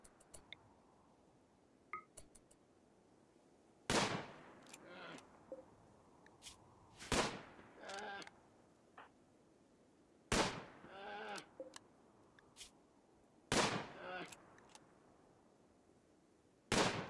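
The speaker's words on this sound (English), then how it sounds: "After 5 precise shots from his rifle, the polar bear is too close to Shepard" Rifle shots fired at a charging polar bear in the video game Rimworld: five sharp, loud cracks spaced about three seconds apart, each followed by brief harsh animal cries.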